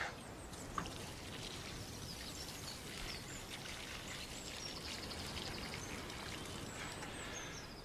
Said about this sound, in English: Now, the next thing to do is to water, and that really is important.